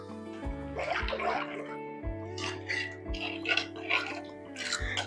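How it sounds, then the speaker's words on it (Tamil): Water splashing and gurgling as it's poured into a cooking pot for mint rice, a continuous bubbly stream with a few brief pauses. "பாருங்க இந்த அளவுக்கு தண்ணி ஊத்தினா போதும்."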